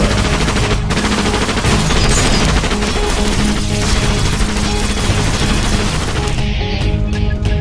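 Movie gunfire from a SWAT team bursts out in a dense, loud fusillade of rapid shots and crashes, rattling on without pause before breaking off near the end.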